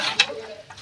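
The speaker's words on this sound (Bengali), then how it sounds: "ভালো করে মিশিয়ে নেব এইটা।" Vegetable chop filling with lemon stirred and mixed in a pan, a close scraping stir with one sharp clack near the start and softer utensil rubbing after, faint sizzle beneath.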